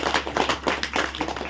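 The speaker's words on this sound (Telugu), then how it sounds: "ఒకసారి గురువులకు నిజంగానే అందరికీ let's give a very big clap." Audience clapping at a Guru Purnima gathering with puja and meditation, a steady patter of many hands close by that continues without a break.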